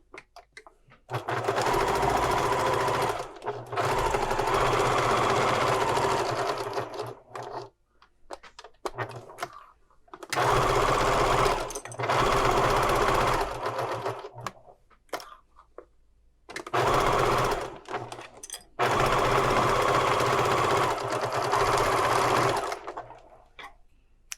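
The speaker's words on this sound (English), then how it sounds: "I'm going to sew these 3 edges together with a 1/2 inch seam allowance." A sewing machine stitches three edges of a scrap-fabric color book with a half-inch seam allowance, running in several loud sustained bursts separated by brief pauses.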